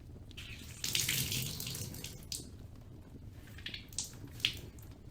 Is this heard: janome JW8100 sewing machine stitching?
no